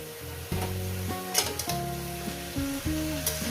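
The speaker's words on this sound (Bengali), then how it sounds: "শাকটাকে দিয়ে দিলাম" Spinach is added to a pan of frying katla fish head for curry, and a steady sizzling hiss runs underneath louder tonal music.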